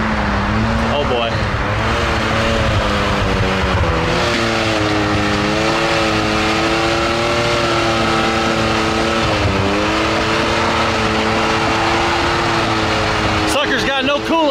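Side-by-side UTV running with no coolant left and a popped tire, its engine droning loud and steady with rising and falling revs, with people talking over it throughout.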